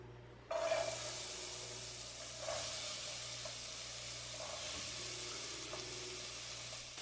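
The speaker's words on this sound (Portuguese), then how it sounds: "Coloque um pouco de óleo de cozinha ou azeite para refogar a cebola." Onion sautéing in cooking oil in a pan, a soft steady sizzle that starts abruptly and continues quietly with faint stirring, no talking.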